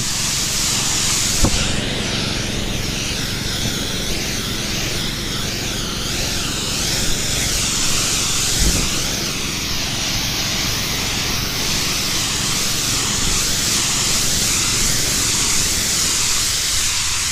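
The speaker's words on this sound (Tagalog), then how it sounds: "Power spray pa rin ang gamit nila." A power sprayer on an okra farm runs with steady, loud hissing spray without a break, a high pressurized rush with a low engine drone underneath and a couple of brief knocks.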